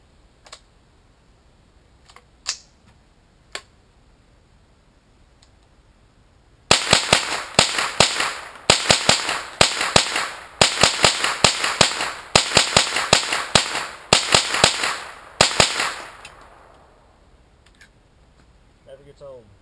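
Smith & Wesson M&P 15-22 rifle firing rapidly outdoors, sharp cracking shots in fast strings over about nine seconds, after a few quieter isolated clicks and pops.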